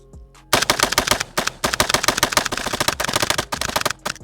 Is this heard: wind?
no